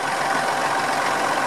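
A tractor engine idles in a constant, broadband drone for a second and a half on a farm where trees are knocked down and mulch spread, loud and close, with no voices.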